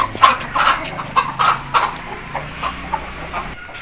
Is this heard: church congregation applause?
no